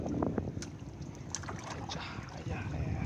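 Passenger boat at sea off Koh Larn near Pattaya, a steady engine and hull rumble with wind buffeting the microphone throughout, continuous and fairly close.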